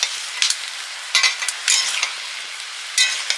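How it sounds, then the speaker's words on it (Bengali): Water lily (shapla) stems cooking lightly in a dry wok, giving a steady low hiss broken by several sharp, close sizzling crackles at irregular intervals, with no talk. "শাপলাগুলো হালকা ভাপিয়ে নিচ্ছি।"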